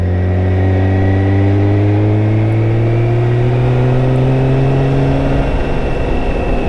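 A BMW K1600GT six-cylinder touring motorcycle engine pulls steadily at low RPM, around 1,000 to 2,000, with a loud, continuous hum whose pitch rises slowly while riding, close to the microphone with no talking.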